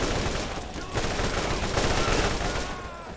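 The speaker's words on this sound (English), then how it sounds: "Let's try out this new rifle." Rapid rifle fire in the Borderlands shooter, a dense continuous stream of shots with a very high fire rate and constant booming impacts, loud and sustained with no talking.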